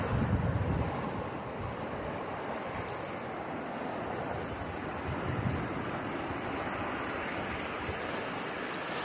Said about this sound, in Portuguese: Parece as ondas aqui no Riacho Seco.